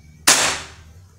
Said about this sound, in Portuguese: Como não tem nenhum chumbinho aqui, eu vou dar um tiro seco.